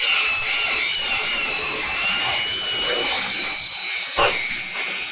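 An orbital pipe saw cuts stainless steel tube at a low blade speed during weld prep, giving a steady, close mechanical whine with a grinding rasp that runs unbroken throughout.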